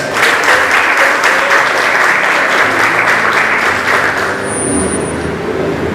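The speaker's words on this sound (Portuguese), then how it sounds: "Vamos receber uma salva de palmas." Audience applause at a 30th anniversary ceremony of a letters academy, loud dense clapping sustained throughout and tapering slightly toward the end.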